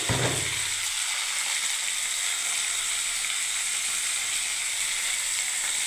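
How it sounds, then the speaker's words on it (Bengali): Mixed vegetables hitting hot oil with whole cumin seeds, a steady loud sizzle and crackle that holds evenly throughout, with no voices. "এবার আমি একটা পাঁচমিশালি ভাজা করব বন্ধুরা"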